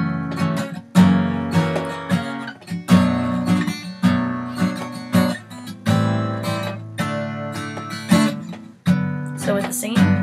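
An acoustic guitar strums chords in a steady gospel rhythm, with about a dozen bright, evenly spaced strokes that ring close and full, and no singing or talk.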